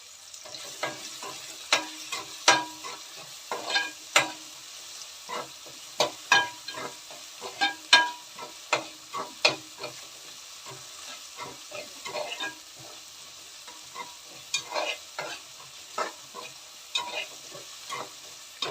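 Tomatoes cook in a sizzling pan with a soft frying hiss underneath, while a spoon stirs them in repeated clicking, scraping strokes at an uneven rhythm.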